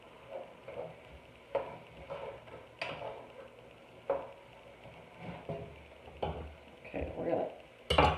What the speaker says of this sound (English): Keep stirring your meat so it gets nice and brown evenly everywhere.